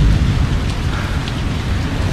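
Heavy rain pouring down steadily, a loud dense roar of drops with no pauses, close by and with no voices over it.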